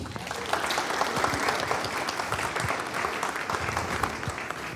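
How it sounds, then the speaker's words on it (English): A town hall audience applauds steadily, many hands clapping together in a dense, sustained round that fills the room for several seconds. "Can we give Mark a round of applause?"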